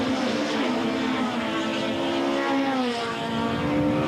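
Touring cars from a 1998 South African championship round at Aldo Scribante roar down the main straight, loud and continuous engine drone with shifting pitch as cars pass close by.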